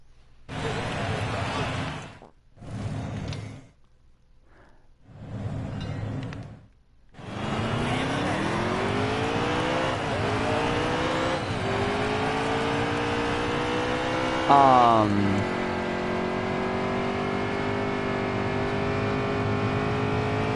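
Race cars roaring in a NASCAR Heat 3 video game race, engine drones rising in pitch through steady acceleration, with a voice talking over the early part before the engines take over continuously.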